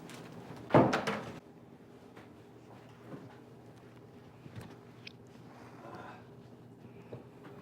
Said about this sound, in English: I'll close the door for privacy.